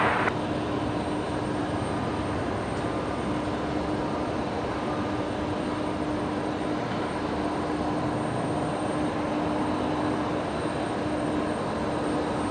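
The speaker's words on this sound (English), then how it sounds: "Got one of the Link Airways Metros there taxiing in." A Link Airways Metro turboprop taxiing in at Brisbane Airport, a steady broad engine rumble with a constant whining tone, held at an even level throughout with no voices.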